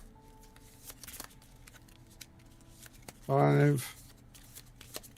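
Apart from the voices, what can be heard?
shuffling a deck of cards in a board game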